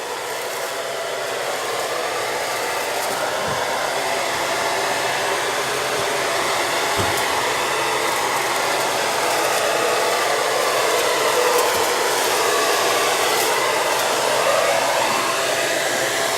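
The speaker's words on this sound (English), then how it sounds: "this is the cup out of the vacuum cleaner" A handheld vacuum cleaner collects resting mosquitoes in Muleba, Tanzania, its steady high-pitched motor whir running continuously and close, with a few brief knocks as it is moved about.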